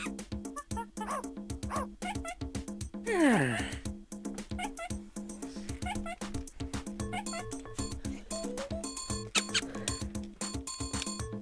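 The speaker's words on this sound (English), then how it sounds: "Ooh, a doggy." A small cartoon dog in the Giga Pets Explorer video game gives several short yips and whimpers over looping electronic game music, with a chirpy squeak and a sliding tone mixed in.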